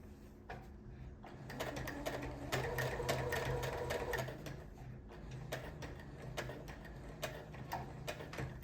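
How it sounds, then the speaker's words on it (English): A sewing machine stitches a zipper into a pencil skirt, a steady, rapid mechanical ticking that runs close and fairly quiet, pausing briefly and then resuming. "So I'm going to sew on top a few inches, maybe half an inch up."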